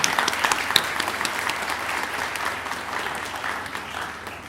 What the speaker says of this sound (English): Give yourself a warm round of applause.